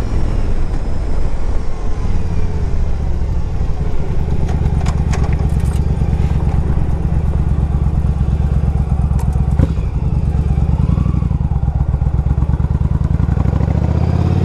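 A 2005 Yamaha V Star 1100 motorcycle fitted with Vance and Hines pipes runs steadily, a loud, deep, throbbing exhaust rumble close by with faint clatter and no talking.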